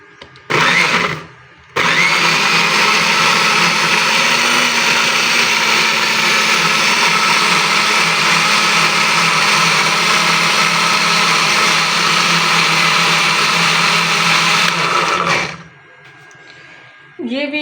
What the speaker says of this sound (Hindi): अब मैं मशीन चलाने लगी हूँ।